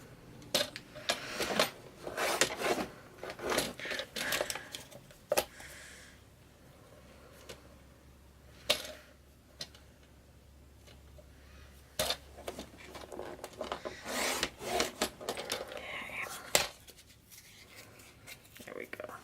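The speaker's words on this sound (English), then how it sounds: "I'm just going to use the cutter" A cutter slices through box material in bursts of short scraping and snapping strokes, close and crisp, separated by quieter pauses with faint handling noise.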